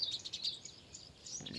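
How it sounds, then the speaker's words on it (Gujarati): Sparrows and other birds chirp at a farm, thin high tweets coming in quick bursts, faint and a little distant over quiet breezy air. "ભેગા ચકલા અને પક્ષીઓનો અવાજ આવે"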